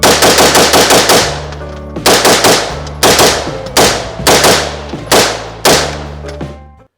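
Rifle fitted with an Adams Arms piston conversion kit fired in rapid bursts, loud close shots in quick strings with short pauses between groups, each ringing off briefly.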